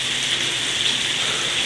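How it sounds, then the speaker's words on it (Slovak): Steady rain mixed with falling ice spatters on a surface, a dense, even hiss with no voices. "Hotovo a už prší."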